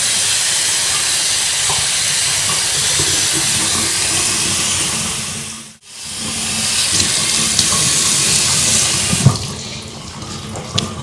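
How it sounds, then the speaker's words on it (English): Running water streams steadily as an ITG foam air filter is rinsed under the flow, a loud continuous splashing hiss that cuts out for a moment midway and then resumes with a few small knocks near the end. "keep rinsing, keep doing circles just to try and flush out as much as I can coming out"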